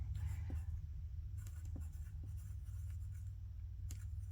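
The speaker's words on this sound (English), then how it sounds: "so let's go ahead and write that out" A pen writes out the Doppler effect equation for a physics review problem, giving faint, quiet scratchy strokes with a few light ticks over a low background hum.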